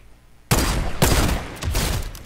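Sniper rifle shots in a video game, two sharp booming reports about half a second apart followed by rolling echo and a further burst of gunfire, loud and close.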